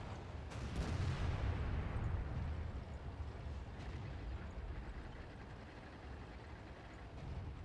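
Tank cannon shells fire in World of Tanks as three players hit a tier 8 IS heavy tank, a heavy boom at the start followed by a further blast and rumbling decay.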